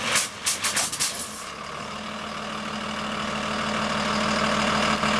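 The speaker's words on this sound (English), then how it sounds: "Southeast Saline school bus drivers doing some dynamic braking on their buses here." School buses run by drivers practicing dynamic braking, with sharp air-brake hisses and clanks in the opening second, then a steady heavy diesel engine drone that swells slightly as the bus slows, no talk.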